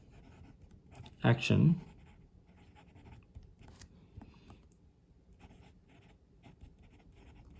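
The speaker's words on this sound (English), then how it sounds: "we'll do another little writing sample" Nib of an Ensso Bolt retractable fountain pen scratching across paper in a short burst of writing strokes, close and fairly quiet, with soft speech around it.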